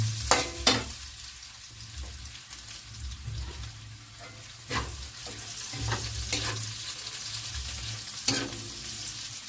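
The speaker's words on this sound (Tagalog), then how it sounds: "ilagay na po natin ang ating bawang po" Garlic frying in a pan for a Filipino pakbet vegetable dish, a steady low sizzle with scattered sharp clinks and scrapes of stirring, close and fairly quiet, with no talking.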